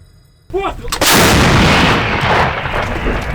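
A single heavy blast from an M37 A2 artillery gun booms close by, followed by a long rumbling roll that slowly fades, after a brief voice at the start.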